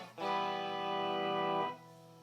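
An electric guitar through a Micro POG octave pedal, with delay and reverb, sustains a single rich, steady note for about a second and a half before it cuts off into a faint tail.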